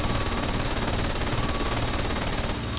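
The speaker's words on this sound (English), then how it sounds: "couple hits from machine gun only" Machine gun fire from a Bf-109 fighter in the 2001 flight sim IL-2 Sturmovik, a dense continuous rattling burst with engine roar beneath, cutting off just before the end.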